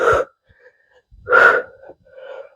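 Forceful breaths pushed out during a bodyweight strength workout: two loud, close, breathy exhales, each followed by a softer trailing breath.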